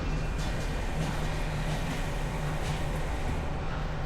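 A passing train heard from a delivery driver's truck, a steady, loud rumbling roar with low-frequency drone and faint rhythmic clatter that stays constant from start to finish, no voices.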